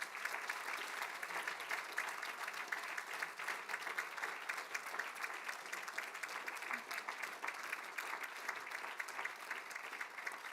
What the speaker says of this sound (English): Please give yourselves a massive round of applause.